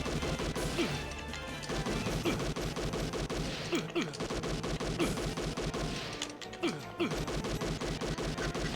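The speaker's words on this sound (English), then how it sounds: "Alright, so we just have to fire wildly." Rapid gunfire rattles continuously in the Policenauts video game as shots are fired wildly, dense with crashes and impacts under game music, loud and steady throughout with only a brief dip.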